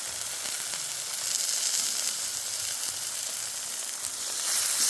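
Food sizzles steadily on a hot tent stove, a continuous close frying hiss that swells slightly toward the end, with no talking.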